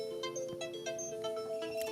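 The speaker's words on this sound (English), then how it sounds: "My phone ringing." A phone ringtone chiming in a melodic, repeating electronic pattern, close and clear with no talking over it.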